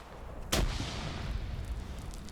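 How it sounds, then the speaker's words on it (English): A single grenade explosion in a Battle of Waterloo PvP video game, one sharp distant blast with a short rumbling tail over faint background noise. "They're being forced inside now because of these grenades."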